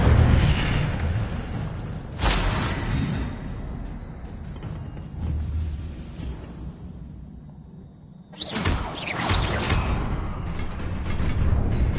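A fire spell erupts in a video game with whooshing bursts and a roaring flare, fading to a quieter rumble before another loud fiery blast swells and sustains.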